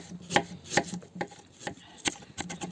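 Knife chopping through bell pepper on a cutting board for Georgian chakhokhbili with chicken, about seven crisp separate chops at an uneven pace, close and clear with no talking.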